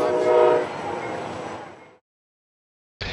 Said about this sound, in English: here is a passenger train on the east bank